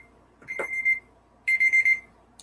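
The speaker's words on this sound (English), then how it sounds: "The alarm went off." A timer alarm goes off at the end of a five-minute writing sprint, sounding two bright electronic beeping bursts, one short and one longer, alone at moderate volume with no talking.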